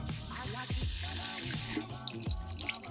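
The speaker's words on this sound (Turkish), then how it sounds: "Sonra suyunu döküyorum. Tekrar yıkıyorum." Water is poured off rice being washed in a bowl, a steady rushing, splashing flow with gurgling drips, close and continuous throughout.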